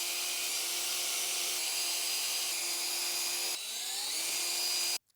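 Steady whirring of a power driver backing Phillips screws out of the stock gas cap on a 2025 Ducati Panigale V4, a continuous high motor whine with a brief pitch shift before cutting off abruptly.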